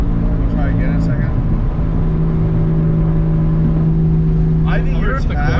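A BMW 335i engine is held at high revs against the rev limiter, a loud, close, sustained droning hum, with people talking briefly near the start and end.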